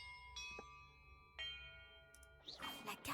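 Church bells ringing in the video game Hogwarts Legacy, several separate clear strikes with long ringing decay, followed by a louder burst of clattering activity near the end.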